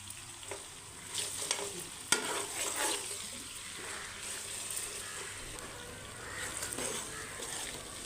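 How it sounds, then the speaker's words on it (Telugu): Ginger garlic paste frying in a pan, with soft sizzling under scraping and clinking as a spoon stirs it, including one sharp knock against the pan, close and moderately quiet. "అల్లం వెల్లుల్లి ముద్ద అయితే వేసాను నేను. బాగా పచ్చి వాసన పోయేదాకా వేపుకుందాం."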